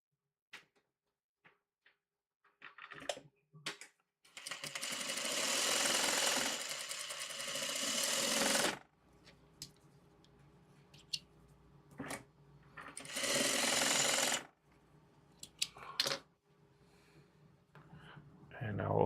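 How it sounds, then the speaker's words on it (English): A sewing machine stitches a seam on a diamond pendant quilt block, running in two sustained bursts of steady mechanical whirring, close and fairly loud, with short handling clicks and brief pauses between them. "And we will sew this on."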